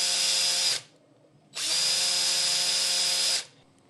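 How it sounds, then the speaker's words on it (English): A power drill spinning a speedometer during repair whirs in two steady bursts, the first about three-quarters of a second long and the second nearly two seconds, with a brief quiet gap between. "So now, if I spin it with the drill,"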